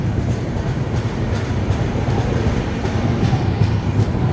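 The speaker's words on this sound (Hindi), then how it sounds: "finally overtaking Gorakhpur Panvel express eight Rani Kamlapati" A Rajdhani Express overtakes the Gorakhpur Panvel Express near Rani Kamlapati station, a continuous loud rumble of rolling train with faint rhythmic clicks of wheels on rail joints, heard from on board throughout.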